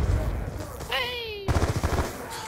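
Gunfire in an online shooter video game: dense bursts of shots open the moment and return after a pause, with a rising electronic whine in between, loud and close.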